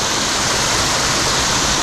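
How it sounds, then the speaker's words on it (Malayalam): Water at Pampanal Waterfall pours in a steady, loud, close roar of broadband rushing noise with no break and no voices. "അവിടെ നിന്ന് വെള്ളം ഒഴുകി വരുന്ന ഒരു കാഴ്ചയാട്ടോ കാണുന്നത്"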